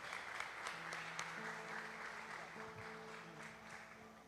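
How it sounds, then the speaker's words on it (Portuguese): A church congregation in a Brazilian service applauds, steady dense clapping throughout with a sustained musical tone, likely keyboard, playing beneath it. "Vamos receber o servo do Senhor com a linda salva de palmas ao nosso Deus."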